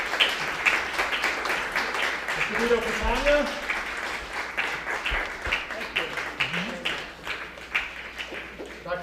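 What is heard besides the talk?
audience applause at board meeting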